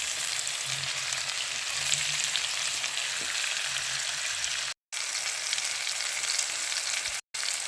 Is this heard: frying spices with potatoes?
yes